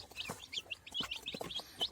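Newly hatched chicken chicks peep in a coop, a rapid string of high, thin chirps overlapping from several birds, close and fairly soft.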